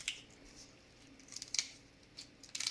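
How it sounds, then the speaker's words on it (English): Kitchen scissors snip through a cooked lobster's shell in a few sharp, crunchy cuts, close and fairly quiet, with the loudest bursts near the middle and end. "Use scissors is the easiest way to do it. Just pop it in here and cut it."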